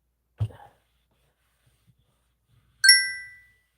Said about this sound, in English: That was my phone again.